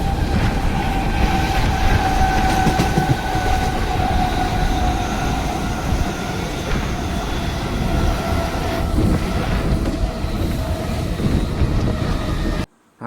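A crowded Mumbai suburban local train runs toward Panvel, a steady loud rumble and rattle of wheels on rail with rhythmic clacking and a faint squeal, heard from inside the carriage for the whole stretch.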